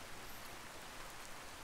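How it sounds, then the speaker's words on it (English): Rain falls in the video game Skyrim as a steady, dense hiss of drops, even and unbroken over a short stretch, with no voices. "oh, it is raining."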